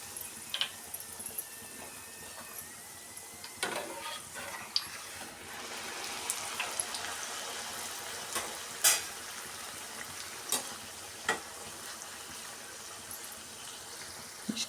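Hotel-style poori fries in hot oil with a soft, steady bubbling sizzle, broken by scattered sharper pops and crackles, heard fairly close but at a gentle level.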